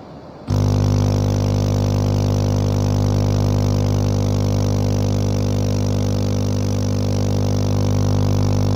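A steady mechanical hum of an aquarium air pump aerator running on its high setting after switching on, constant and loud with a low droning buzz and no variation.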